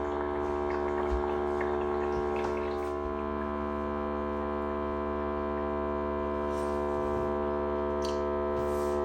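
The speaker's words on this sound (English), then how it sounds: "that's the tank being emptied" A HumminGuru ultrasonic record cleaner drains its tank with a steady, even electric hum that holds for the whole stretch, with faint small clicks and no voices.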